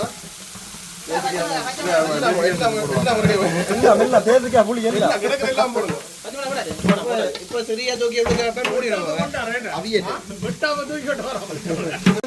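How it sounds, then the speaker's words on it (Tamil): Onions frying in a pan for a large home-cooked feast, a busy crackling sizzle with stirring that runs throughout beneath near, steady conversation. "நாங்கள் இப்ப வெங்காயத்தை பொரிய போட்டாச்சு"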